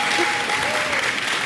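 Fans at an LEC esports event in summer 2022 cheer and applaud, a loud, dense burst of clapping and crowd noise that fills the whole moment.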